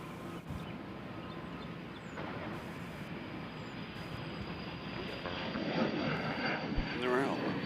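Fixed-wing airliner taking off at Nashville International Airport, a steady broad engine roar that swells louder toward the end, with a voice talking over it.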